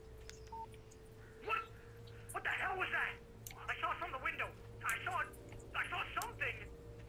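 A phone rings in the Alan Wake video game, a repeated electronic ring in several evenly spaced bursts, set over a low steady hum with a brief voice early on.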